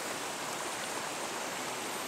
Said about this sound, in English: when we have churnings of water like this